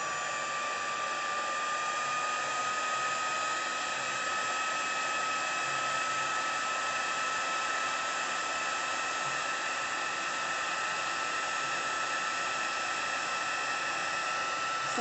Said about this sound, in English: And my heat tool, which for once is actually plugged in.